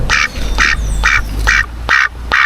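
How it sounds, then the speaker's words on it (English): A duck quacks in five loud, close bursts spaced evenly about half a second apart, over a low rumbling background. "This duck keeps following me"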